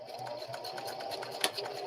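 A sewing machine back stitching on a small handmade fabric poppet doll, a steady close whirring hum with a quick sharp click near the end, moderately quiet.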